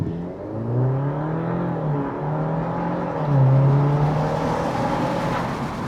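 A 2025 Jeep Wrangler Willys 4xE plug-in hybrid pulls away from a stop, its engine note rising steadily into a continuous, fairly loud acceleration whir with climbing harmonics across the whole stretch.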